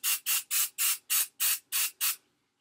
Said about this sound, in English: So I'm kind of spraying it right at the root.